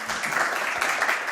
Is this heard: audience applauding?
yes